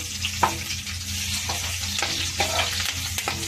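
Dried red chillies and garlic frying in hot oil for a tempering for dal, a steady close sizzle with occasional stirring scrapes and pops, no talk.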